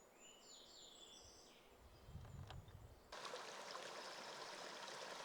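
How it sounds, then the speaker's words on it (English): A small, unmapped mountain stream flows in the Tehipite Valley backcountry near Little Rancheria Creek. Birdsong chirps at first, then a steady close wash of running water swells louder and carries on alone to the end. "This little stream doesn't show up on my GPS data, yet it still has decent flow"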